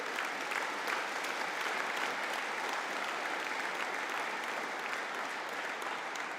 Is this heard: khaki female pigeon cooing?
no